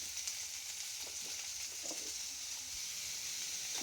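Chopped onions fry in a pan for a ridge gourd curry, a constant hissing sizzle at close range with a few faint soft stirring scrapes and no talking.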